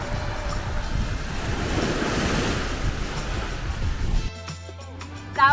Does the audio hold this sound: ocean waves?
yes